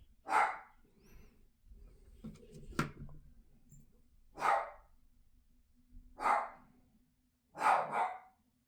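Upstairs in a house, a dog barks in four or five separate sharp bursts at irregular intervals, fairly close and clear, with faint breathing and shuffling in between.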